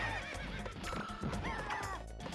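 A horse neighs and whinnies in the video game The Misadventures of Tron Bonne. It is a clear, repeated, fairly loud call over steady game background sound, with a hint of hoof clip-clop.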